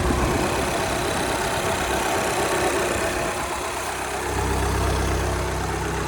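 Audi A6 2.0 TDI diesel engine idling with its fan belt removed, a steady, even drone close by that continues without interruption and with no talking over it.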